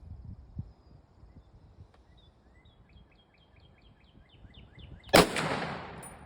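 A single loud M1 Garand rifle shot cracks out at an outdoor gun range, its sharp blast trailing into a decaying echo after a stretch of quiet with faint birdsong chirping in the background.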